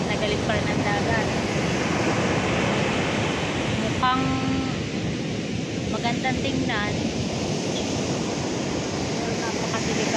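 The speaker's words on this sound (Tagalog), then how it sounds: "Ngayon galit na galit pa rin ang dagat." Rough, churning sea after Typhoon Uwan at Bucana, a steady loud broadband roar of surf and wind filling the whole stretch, with people talking over it.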